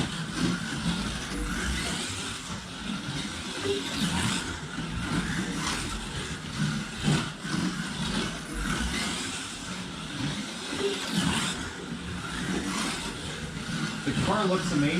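Can-Am slot cars race around a track in a proxy race, giving a steady whirring motor drone that swells and fades slightly, with a voice talking over it.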